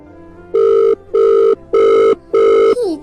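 A telephone rings in four even, loud bursts with short gaps between them, and a fifth tone cuts off partway through, heard alone.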